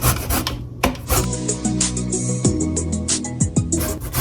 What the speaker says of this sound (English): We're going to zest our limes.